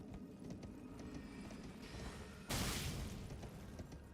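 Horse hooves in the video game Elden Ring, a quick, even clip-clop under a busy background, with a loud burst of noise partway through.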